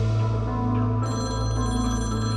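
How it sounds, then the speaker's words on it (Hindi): A telephone ringing indoors, a loud continuous electronic ringtone with bright steady tones that shift partway through, heard alone without talk. "तुम्हारे आरजे मारूफ अली का फोन आ गया।"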